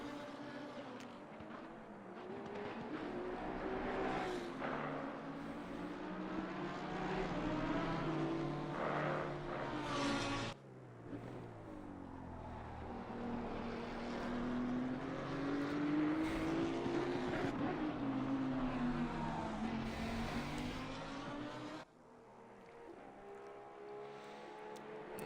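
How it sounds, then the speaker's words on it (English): Porsche Cayman and BMW 1 Series GT race cars run at a circuit, their engines rising and falling as they rev and shift through a continuous, moderately distant drone with no talking. "the Cayman and BMW 1 Series heading up into Fuchsrow"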